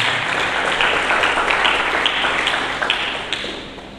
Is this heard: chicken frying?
no